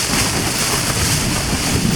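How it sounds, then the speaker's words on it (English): A strong, roaring wind gust buffets a tent close by on a fell in a continuous loud rush, with no voices. "The second I say that, a big gust comes in."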